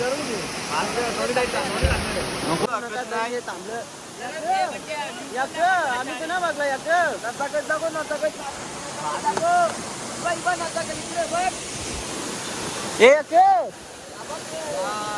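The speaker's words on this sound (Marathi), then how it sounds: "कसला धबधबा भाई भारी आहे." A waterfall at a hill resort in Mahabaleshwar sends a steady broadband roar through the whole clip, loud and constant beneath frequent talking and excited voices.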